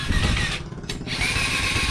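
A power drill whirs continuously up close, drilling a handle, its motor grinding steadily with a brief dip midway before resuming.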